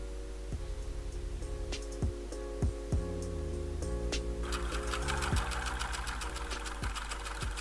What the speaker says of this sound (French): Je refais mon petit réglage sur ma machine pour avoir mon aiguille qui va piquer à 5 mm du bord.